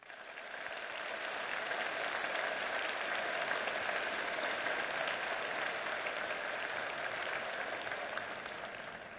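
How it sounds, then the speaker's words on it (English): A crowd at a school Veterans Day ceremony applauds the veterans in attendance, a broad sustained roar of clapping that swells in, holds steady and tapers slightly at the end, with no voices. "Can we please give them another round of applause?"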